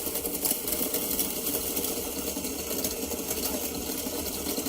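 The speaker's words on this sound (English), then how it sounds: "So this motor right now is running really powerful." A small motor on a DIY battery setup with a gel membrane runs powerfully, giving a loud, continuous buzzing whir that stays steady and unbroken throughout.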